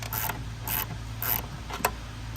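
Socket wrench ratcheting in short repeated bursts while tightening a fastener on a Mustang, several quick clicking runs over a steady low engine-bay hum, close and moderately loud.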